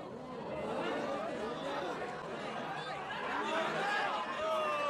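Murmuring crowd of spectators at a wrestling match, a steady dense chatter with scattered chuckles filling the space throughout.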